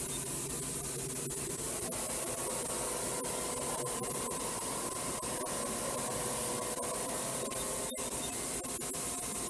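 A 1998 Okuma Cadet Mate vertical machining center spindle spins at 4000 RPM, giving a steady, even whir and hiss with a faint tonal hum, continuous and close with no voices.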